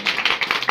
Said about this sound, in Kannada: ಸರಿ ಇದ್ರೆ ಚಪ್ಪಾಳೆ ಬರಬೇಕು.